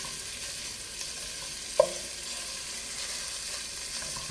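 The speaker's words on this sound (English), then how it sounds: "now the meat is getting to brown up a little." Meat browning in a pan for a tomato sauce produces a soft, steady sizzle with one brief utensil clink partway through, close and fairly quiet, with no voices.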